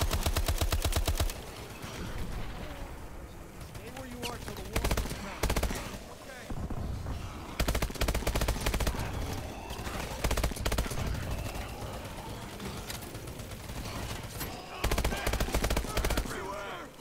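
A machine gun in a zombie shooter game fires repeatedly in long, rapid bursts that rattle loudly and close, with short pauses between runs and a few fainter shots and effects in the gaps.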